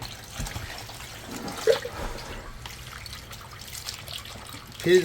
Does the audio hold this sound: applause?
no